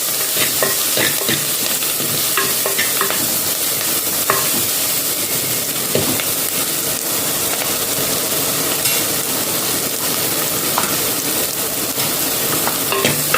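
Tomato masala being stirred in a pan for a traditional village-style fish curry, with a steady sizzle and frying crackle under continuous scraping and stirring, fairly loud and close throughout with no talking.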